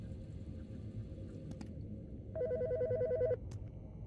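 A telephone in the video game Autopsy Simulator rings with a single electronic trill of rapid alternating tones lasting about a second, over a low steady rumble with a few faint clicks.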